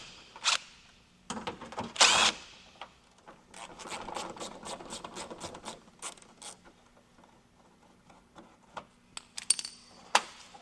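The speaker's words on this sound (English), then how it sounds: "we're going to use a 10mm socket, take these 3 screws out of the flare here" A 10mm socket backs out screws from the fender flare of a 3rd-gen Toyota Tacoma during a rear bumper install, giving short mechanical creaks and ratcheting clicks in quick bursts, close and moderately loud, with brief gaps between.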